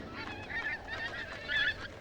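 Geese honk repeatedly on the Alaskan tundra nesting grounds during a spring snowfall, a dense overlapping chorus of nasal calls at moderate distance with a continuous outdoor wash beneath.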